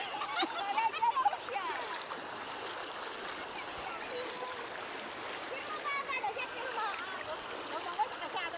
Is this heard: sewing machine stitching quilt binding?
no